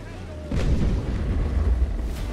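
Heavy naval cannon broadside fire from an enemy ship loading chain shot in the Naval Action sailing game, a deep booming rumble starting abruptly and rolling on loudly, with faint further thumps.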